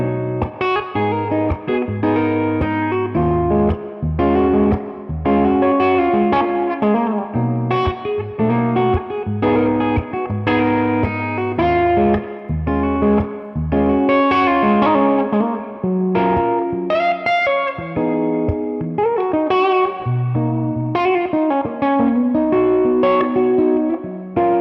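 A semi-hollow electric guitar is played fingerstyle with the tone knob rolled down, giving warm, rounded plucked notes and chords that ring out clearly and alone at a steady strong level.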